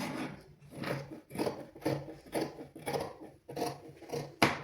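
Scissors snip through fabric while cutting out a toddler's pant pattern in a basic tailoring lesson, with about nine crisp, evenly spaced cuts close to the listener and no talking.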